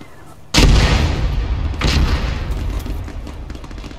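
Artillery in a military video game: a sudden heavy boom lands close and loud, followed by a second, softer blast a little over a second later, both trailing off into a long rumbling decay.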